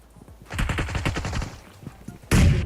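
Gunfire in PUBG Mobile: a quick run of rhythmic automatic shots, moderately loud, followed by a sudden louder blast of noise at the end.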